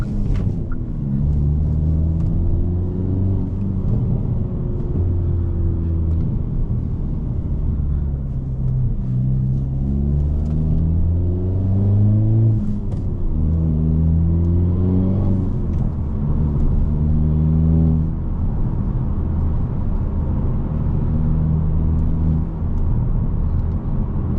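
A 2022 Hyundai Elantra N with a turbocharged four-cylinder and manual gearbox drives under load, its engine rumbling loudly and steadily with repeated rising revs and drops between gear changes, heard from inside the cabin.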